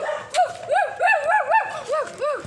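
A small dog chasing people gives a run of high, whiny yelps and whimpering barks, about six in a row, close and fairly loud.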